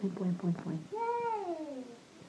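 A voice imitates a cat, giving a drawn-out, rising and falling meow after some brief babbling sounds.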